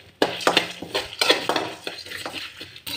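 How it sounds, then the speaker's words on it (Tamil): Whole spices for a mutton curry are dry-roasted in a kadai and stirred with quick scraping, rattling strokes, close and irregular, each pass sounding brief and dry against the metal. "நம்ம இப்போ ஒரு கடாய் எடுத்து, கடாய் சூடான முன்னாடி நம்ம எல்லா பொருளையும் ராவாக வறுத்தெடுத்துக்கலாங்க"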